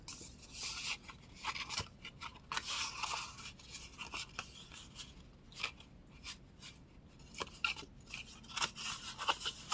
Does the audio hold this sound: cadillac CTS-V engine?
no